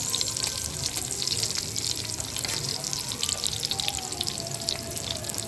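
Dried anchovies fry in a shallow layer of oil, giving a continuous close crackling sizzle with fine popping throughout and no speech.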